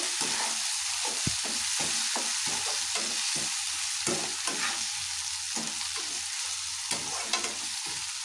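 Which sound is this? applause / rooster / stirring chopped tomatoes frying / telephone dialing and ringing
stirring chopped tomatoes frying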